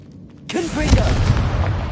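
A Confringo fire spell explodes in Hogwarts Legacy: after a brief quiet, a sudden loud blast hits and then trails into a heavy, sustained rumbling roar.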